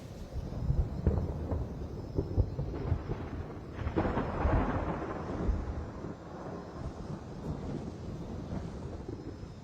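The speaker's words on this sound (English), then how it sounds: "Storm's coming." Deep thunder rolls from an approaching storm, several low rumbling swells with a louder roll near the middle, heard over wind and faint rain outdoors, no voices.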